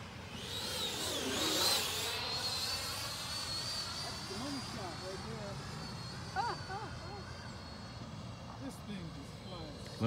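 A Freewing 90mm F-22 RC jet flies past at sunset, its ducted-fan whine rising to a loud close pass and then sweeping down and fading into the distance, while people talk nearby.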